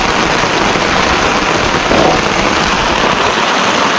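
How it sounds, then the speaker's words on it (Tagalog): Steady, heavy September rain pours down in a dense, continuous hiss, close and loud, with no voices. "Ito yung matagal natin hinihintay na ulan"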